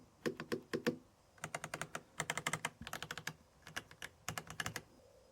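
Typing on a Varmilo Minilo Eucalyptus 65% keyboard with EC Iris tactile switches, a fast run of crisp, close keystrokes in bursts with brief pauses, including deeper spacebar thocks, with no talking.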